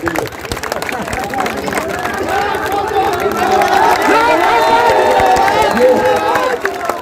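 At a Bihar election rally in Kadwa, a packed crowd applauds and cheers for Chirag Paswan in a sustained, loud wash of clapping and shouting voices that swells slightly toward the middle before easing near the end.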